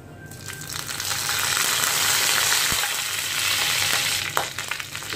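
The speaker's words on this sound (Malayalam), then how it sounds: "ഇനി നമുക്ക് അതിനകത്തേക്ക് കുറച്ച് കറിവേപ്പില ചേർത്ത് കൊടുക്കാം." Curry leaves, dried chillies and fenugreek seeds hit hot oil with a loud, hissing sizzle that swells and then eases, broken by a sudden crackling burst near the end.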